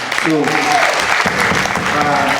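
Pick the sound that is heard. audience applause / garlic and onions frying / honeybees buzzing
audience applause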